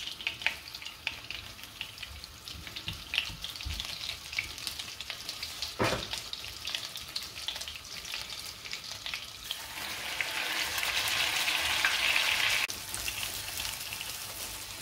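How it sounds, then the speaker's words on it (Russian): Steady sizzling and crackling of veal eye muscle searing in a hot frying pan, with a brief clatter partway through and the hiss swelling louder near the end. "будем обжаривать его с каждой стороны примерно по минутке, для того, чтобы получить корочку"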